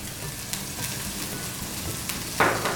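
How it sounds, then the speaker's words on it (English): Cumin seeds sputter in hot oil in a pan. A soft, continuous crackle with scattered pops ends in a brief louder sizzle. "We'll add the jeera and let it sputter."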